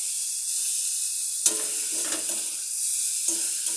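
Spices and onions sauté in a hot pan, giving a steady close sizzle with bursts of scraping and stirring, and no one speaks.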